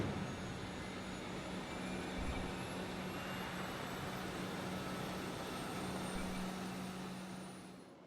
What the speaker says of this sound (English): You admiring this engine, Parvati?